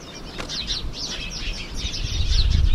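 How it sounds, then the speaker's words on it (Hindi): Several birds chirping and tweeting in quick, overlapping bursts, fairly close, at an old mud monastery in Tabo, with a low rumble building toward the end. "ऐसी जगह पर चिड़ियों की आवाज़ें आ रही है"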